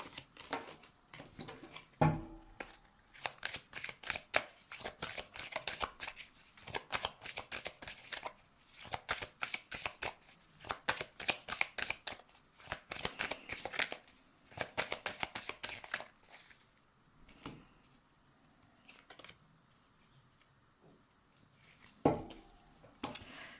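Tarot cards are shuffled by hand in quiet, rapid bursts of crisp riffling and clicking, broken by short pauses and a softer stretch near the end.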